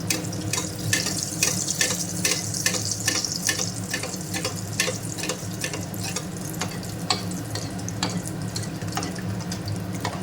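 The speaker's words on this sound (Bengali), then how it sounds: "এটা কড়া করে ভাজবো ধিমি আছে করে কড়া করে ভাজবো" Mughlai paratha, a stuffed flatbread, fries in hot oil on low heat with a steady close sizzle and crackle, broken by frequent small pops and splatters throughout.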